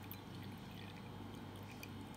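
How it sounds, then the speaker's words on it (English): Water is poured into a cup to soak the dry roots of an onion, a faint, steady trickle running for a couple of seconds against a quiet background. "if I pour some water in a cup"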